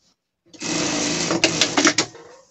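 A sewing machine runs a zigzag stitch along fabric for a gauche costume, a steady close mechanical whir lasting about two seconds with a few sharper clacks near the end before it winds down.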